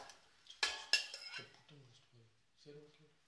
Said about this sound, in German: So, geben Sie geschnittene äh, Hähnchen in einen Topf.